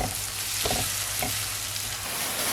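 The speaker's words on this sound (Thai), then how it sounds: "ใส่น้ำมันลงไปนิดนึง ประมาณ2 ช้อนโต๊ะ ผัดค่ะให้นิ่มๆหน่อย" Filling for samosas stir-fries in about two tablespoons of oil, a constant close sizzle broken by a few brief scraping stirs of the spatula.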